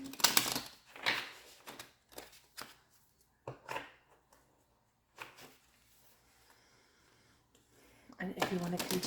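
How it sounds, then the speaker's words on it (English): A tarot card deck being shuffled in short, crisp bursts of riffling and sliding cards, close up and separated by pauses, with a voice speaking softly between them. "Do a little bit of shuffling."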